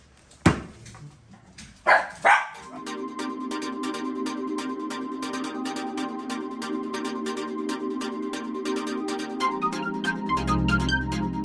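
Dogs bark in a few sharp, loud yaps at the start, then a steady music bed takes over and continues to the end.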